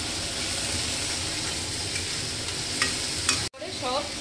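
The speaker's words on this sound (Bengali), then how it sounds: "হাই ফ্লেমে এটাকে একটু নাড়াচাড়া করতে হবে।" Sukto spice paste thinned with water sizzles and is stirred on a high flame, a dense steady frying hiss with occasional spoon scrapes, briefly cut off near the end before the bubbling resumes.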